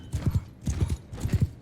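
Horse hooves from the Mount & Blade II Bannerlord game clop in quick, even triplet groups, close and distinct, with no talk.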